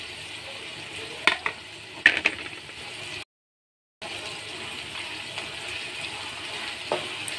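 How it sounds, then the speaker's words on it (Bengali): Grated coconut sizzling and frying with a shapla flower curry in a pan, faint steady frying hiss broken by a few sharp scrapes of stirring and a brief drop to silence. "তো বন্ধুরা এখন আমি নারকেলগুলোও দিয়ে দিচ্ছি।"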